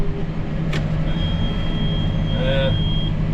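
A short electronic beep tone sounds over a steady vehicle engine rumble, with a brief higher chirp partway through.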